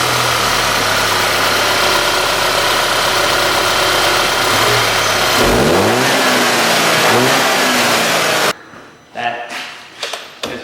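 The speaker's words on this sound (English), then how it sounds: "I want to start the car up and give it a few revs to show you the difference" Audi B8 2.0T engine idling loudly and steadily, then revving up in several rising sweeps before cutting off, followed by a few sharp knocks and clatters nearby.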